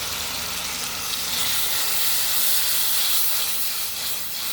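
Spice paste fries with a splash of water in a pan for a fish curry with potato and eggplant, a steady, close hiss and sizzle that runs unbroken throughout, with no voices.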